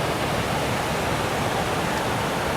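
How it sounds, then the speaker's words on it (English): Upper Tumwater Falls on the Deschutes River in Washington State, a steady broadband rush of falling water that stays constant and close with no other sounds. "So these are the upper Tumwater Falls."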